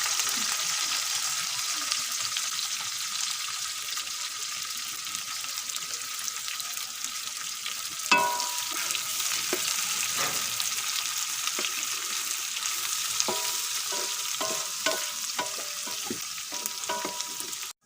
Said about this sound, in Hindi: उसी ही घी में हम प्याज फ्राई करेंगे, मसाला बनाएंगे